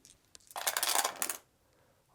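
Dice rattle and clatter onto a table during a tabletop war game, one short loud burst of tumbling hard plastic after a faint earlier tap, then quiet.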